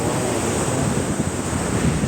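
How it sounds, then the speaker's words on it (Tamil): Sea surf rolling onto a Kerala beach roars as a continuous broadband wash, loud and close, mixed with wind buffeting the microphone, no voices. "கடல் அலையை ரசிச்சுட்டு"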